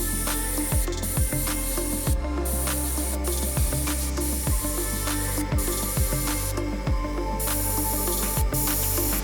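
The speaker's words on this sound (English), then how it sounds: "I'm going to be using 2 hands to try to help control or keep the airbrush steady" An airbrush sprays paint onto a fishing lure in a trout pattern, giving a steady close hiss throughout with faint clicks and handling noises over it.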